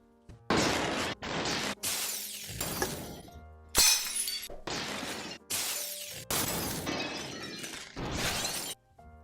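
Repeated glass shattering bursts from a LEGO SuperHot stop-motion animation, about eight loud crashes in quick succession, each a bright breaking smash with tinkling debris, separated by brief gaps, no talk.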